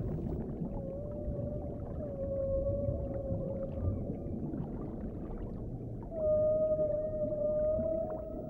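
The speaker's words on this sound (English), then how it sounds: "humpback song is a powerful form of communication." Humpback whale song rings out underwater as long, drawn-out moaning tones that rise and hold, repeated in phrases over a low rumbling ocean background.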